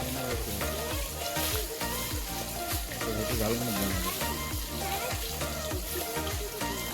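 Chicken lollipops coated in homemade masala sizzle and fry steadily in a pan, a continuous loud crackle with faint stirring and no pauses.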